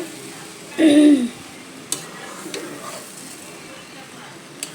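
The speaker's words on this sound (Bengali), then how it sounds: "ঘিয়ে ভাজলাম পাঁচ মিনিটের মতো এখন হচ্ছে চিনি দিয়ে দিলাম এক কেজি" Something fries in ghee as sugar goes in, a low, quiet sizzle with a few sharp utensil clicks, and a brief voice-like sound breaks in near the start.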